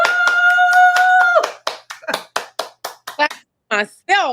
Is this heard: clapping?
yes